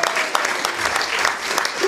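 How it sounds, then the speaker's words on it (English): An audience at a live music event breaks into warm, continuous applause, a dense clatter of many hands clapping steadily throughout with no break. "So give yourselves a round of applause for being people like you."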